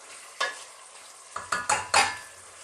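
Garlic, onions and celery soften in a hot pan for an Italian cream and mushroom chicken dish, with a low sizzle under five quick stirring scrapes, the last few coming close together and louder.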